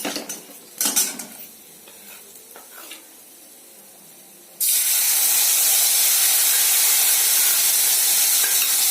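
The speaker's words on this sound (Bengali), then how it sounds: "ওই জিরেটা আর ধনে যেটা ভিজিয়ে রেখেছিলাম, জিরের গুঁড়ো ধনের গুঁড়ো, ওই মিশ্রণটাই আমি এতে ঢেলে দেবো।" Soaked cumin and coriander spice paste poured into a hot pan: a few utensil clinks, then a sudden loud, steady sizzling hiss that keeps going to the end.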